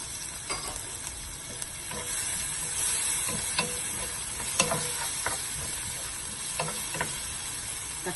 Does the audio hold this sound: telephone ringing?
no